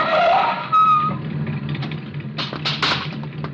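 Car turning a street corner with tires skidding as a radio drama sound effect, engine hum building into sharp squealing screeches near the end, no voices.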